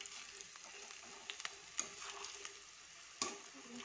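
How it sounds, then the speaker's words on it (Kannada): Gobi Manchurian cauliflower pieces frying in hot oil, a soft continuous sizzle with occasional sharper pops and utensil clicks, fairly quiet and close, no voices. "ಫ್ರೈ ಮಾಡಿ ತುಂಬಾ ಸಖತ್ತಾಗಿ ಫ್ರೈ ಆಗ್ತಾ ಇದೆ ನೋಡಿ"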